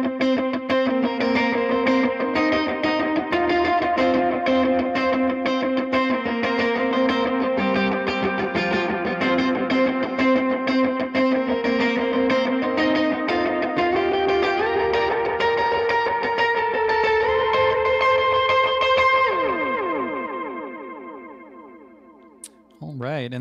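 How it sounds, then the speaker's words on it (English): A Boss RE-202 Space Echo pedal with its saturation turned up sends out dense, distorted repeats that stack into a sustained, gritty tone, then thin out and fade near the end before a brief final sound. "here's the saturation turned up, so you can hear those more distorted repeats"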